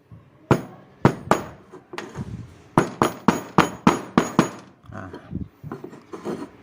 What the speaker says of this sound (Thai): ทีนี้เราก็ใช้ค้อนนะครับ ตอกเพื่อล็อกฝาครอบนะครับ